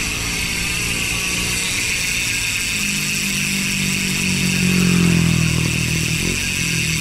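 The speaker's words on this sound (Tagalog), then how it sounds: "so yan yung tunog ng Maxzone stroke MPD hub kapag naka-free wheel" A Maxzone Stroke MTB rear hub with seal bearings freewheels, giving a steady, dense buzzing whir close to the microphone that swells slightly midway, with no voices.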